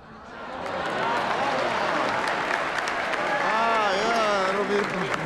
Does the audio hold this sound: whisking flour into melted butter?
no